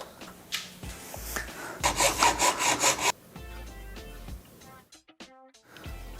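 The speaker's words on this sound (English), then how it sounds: "I'm gonna try a hacksaw." A dull hacksaw blade cuts through a part for an Arduino drawing machine in quick rhythmic back-and-forth strokes, loud and close, then a few scattered knocks and tool clatter.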